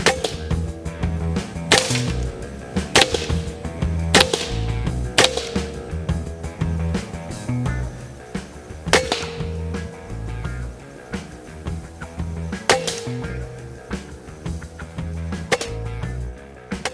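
An Evanix AirSpeed semi-automatic PCP air rifle fires a string of sharp, cracking shots at irregular intervals, close and loud, with no talk between them.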